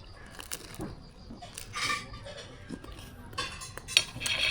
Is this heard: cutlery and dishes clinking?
yes